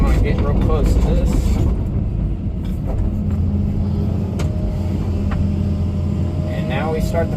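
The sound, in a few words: truck approaching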